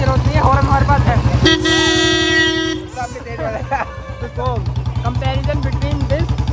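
A toy papaya horn bought at a Dussehra fair in Moradabad blows a steady, loud toot lasting over a second, then sounds a few shorter bursts. Crowd noise and talking run throughout.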